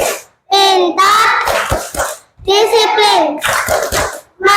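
A class of schoolchildren chanting together in unison in a classroom, loud bursts of voices with a few sharp hand claps between phrases.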